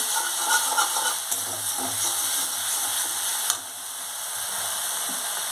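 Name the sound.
spice paste sizzling while being fried for fish curry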